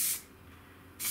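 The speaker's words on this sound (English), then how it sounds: "Make sure we've got paint coming through." An aerosol spray can sprays car paint onto a panel in two short bursts of hiss, one at the start and one at the end, with a quiet gap between them.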